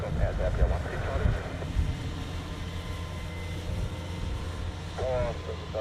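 An Air Serbia airliner takes off from runway 28 at Zurich Airport, heard as a low, steady engine roar and wind rumble beneath intermittent radio voices.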